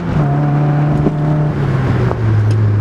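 A Mazda Miata accelerating at full throttle on a hot day, heard from inside the car: a loud, steady engine drone rising then slightly falling in pitch as it pulls through the gear.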